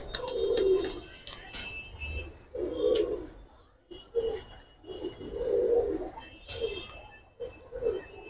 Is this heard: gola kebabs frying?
no